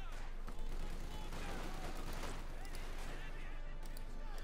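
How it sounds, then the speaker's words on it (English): Close-range gunfire in the WWII strategy game Company of Heroes 2, a German versus Soviet match, crackles as a dense fusillade amid explosions and battle noise, with a commentator talking over it throughout. "shots fired up close"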